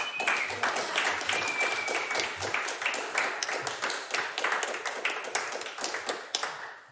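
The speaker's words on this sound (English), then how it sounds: "let's give it up, a round of applause for the United Student Leaders" Audience applause for student leaders at a climate declaration teach-in: steady, dense clapping with sharp individual claps throughout, fairly close and loud, thinning slightly toward the end.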